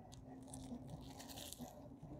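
Close, quiet crunching bites into a crispy croissant sandwich of arugula, brie and bacon, a few crisp crackles of flaky pastry followed by soft chewing.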